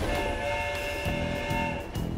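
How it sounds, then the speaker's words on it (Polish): Cartoon sound effect of a train approaching a station, with sustained whistle-like horn tones over a rumbling, rhythmic chug of the cars, loud and continuous for about two seconds. "Pociąg jest coraz bliżej stacji."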